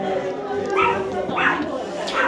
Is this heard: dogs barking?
yes